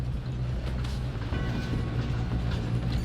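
A train rolls along steadily in Red Dead Redemption 2, a loud, continuous low rumble with faint clattering of wheels and cars, and no talking.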